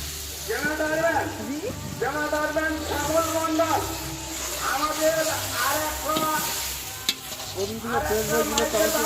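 Ginger goes into a sizzling masala for country chicken, with steady frying hiss and repeated scraping stirs in a pan, close by, as a person talks over the cooking.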